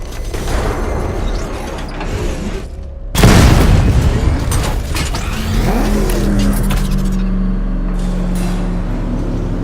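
Heavy metallic crunching and a loud boom as a car is crushed in the Batman: Arkham Knight video game, with grinding, creaking mechanisms and engine rumble continuing loudly afterward.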